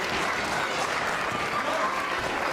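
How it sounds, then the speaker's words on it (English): A wrestling crowd at an EPW women's match cheers and applauds steadily and loudly, with a dense roar of clapping and voices sustained from start to finish. "As we can hear now, the crowd right behind Allyson Cruz"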